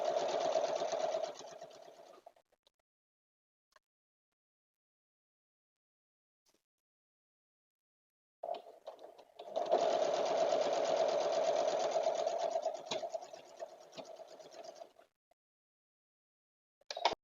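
Sewing machine fitted with a 1/4 inch seam foot stitching quilt triangles, running in two close, steady bursts separated by a long quiet gap, with a few faint handling taps.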